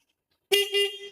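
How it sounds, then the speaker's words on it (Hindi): A single steady motorcycle horn honk from a 2024 Suzuki GR 150 sounds after a moment of silence, clear and close, holding for under a second. "हॉर्न मिलता है आपको"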